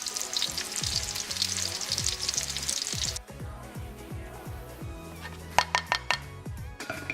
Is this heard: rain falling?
no